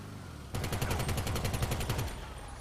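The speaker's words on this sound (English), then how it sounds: "Who is that shooting at us now?" Automatic gunfire in the video game GTA 5: a rapid burst of about a dozen evenly spaced shots lasting roughly a second and a half, fairly loud over a steady background hum.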